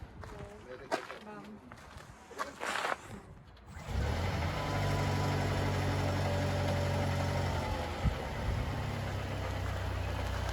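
After a few seconds of movement and brief talk, a big car engine settles into a steady, close idle with a low continuous rumble.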